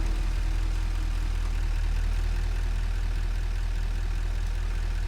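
The tractor in Satisfactory idles with a heavy, unbroken low engine hum that is loud and close throughout, with no speech over it.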